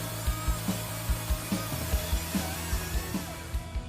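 A power saw making a rough cut through a steel B-pillar reinforcement part: a close, steady grinding whine broken by regular rhythmic thumps, roughly two or three per second, with no talk.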